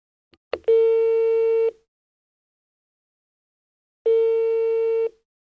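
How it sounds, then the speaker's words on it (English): Two steady electronic telephone ringing tones from a call placed through an operator, each about a second long, separated by a few seconds of silence, with a faint click before the first. "Your number's ringing now."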